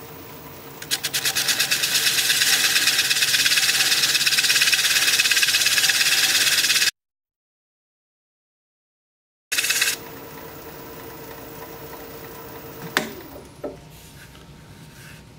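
A wood lathe turns at about 500 RPM with a steady, fairly loud mechanical whir and hum. It cuts out into silence for a few seconds, then comes back quieter with a few knocks.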